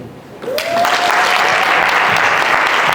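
An audience bursts into steady, close applause at the end of a public speaking presentation for real estate agents, starting abruptly and holding at full volume.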